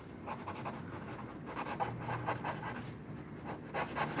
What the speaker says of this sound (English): I hope you like what I'm drawing, Caesar.